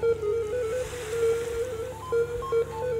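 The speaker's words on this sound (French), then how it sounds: "je suis allé enregistrer des vagues à l'avant du bateau" Ocean waves rush against the bow of a boat at sea, a close, steady wash with surging swells and some wind buffeting.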